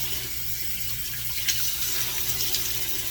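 Tap water running steadily into a sink as soapy hands wearing an exfoliating glove are rinsed, a constant close splashing hiss with small spatters, no voices.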